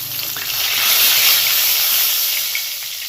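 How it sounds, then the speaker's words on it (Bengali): Katla fish fries in oil in a pan, giving a loud, steady, close hiss that swells and fades slightly, with no voices. "এবার বাকি দুটো ভেজে নেব"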